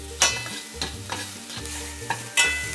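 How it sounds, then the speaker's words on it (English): Garlic frying in about half a tablespoon of oil in a heated pan, a close sizzle broken by several sharp scraping stir strokes at an uneven rhythm, with a low tonal hum running underneath. "Now the pan is heated up. We have a bit of oil, just about half a tablespoon, and I'm carefully adding the garlic"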